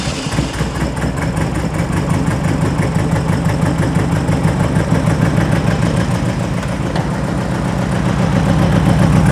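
A 2.2-litre engine in a roughly 1970 sand rail, fed by dual 44 IDF carburetors, idles loud and close. The rumble stays steady and lumpy throughout, with a rapid, even pulsing.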